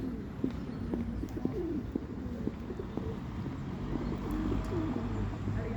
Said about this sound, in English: Check out all these pigeons.